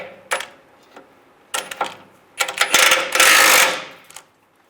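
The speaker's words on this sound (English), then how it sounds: "We have to take these 2 bolts out on each side, the nuts and bolts, using a 21mm wrench on the back side and a 21mm socket." Ratcheting socket wrench working on the 21mm nuts and bolts of a bracket on a 2007-2013 Chevrolet Silverado during transfer case gasket replacement, heard as several bursts of close metallic clicking that build into a longer, louder run before stopping.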